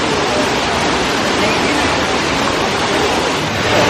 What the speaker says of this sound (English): so we have reached near the waterfall